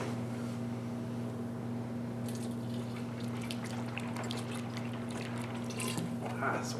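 An Efferdent denture-cleaning tablet dissolves in hot water, giving off a soft crackling fizz of tiny bursting bubbles that grows busier partway through, over a steady low electrical hum.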